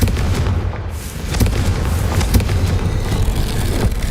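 A Confringo blasting spell from the Hogwarts Legacy video game bursts in a loud, continuous explosive rumble with repeated blasts and crackling impacts, filling the whole stretch with no talk.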